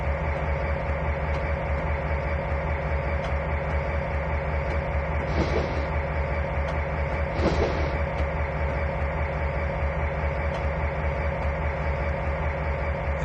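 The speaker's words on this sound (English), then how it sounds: "So now Jane's come to the end of the main line here where it branches off to the left there and goes onto the yard lead" A train rolls along the rails in the Trainz 2019 simulator on the Tidewater route near the yard lead, with a steady rumbling run and two brief metallic clanks partway through, and no one speaking.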